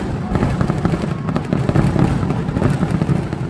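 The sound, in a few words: Thrissur Pooram early morning fireworks display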